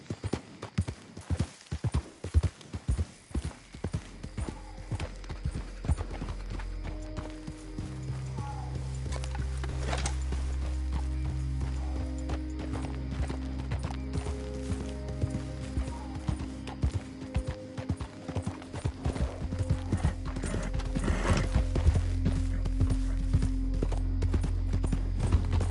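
Horse hooves clip-clop in Red Dead Redemption 2, crisp and close at first, then continuing steadily beneath a swelling sustained musical drone.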